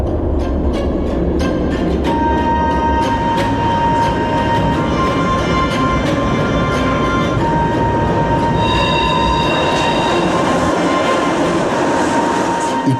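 A train rolls slowly through stations, with a steady rumbling and clattering of wheels on rails alongside intermittent metallic squeals and tonal whines from the cars, loud and close, lasting over twelve seconds with no talk.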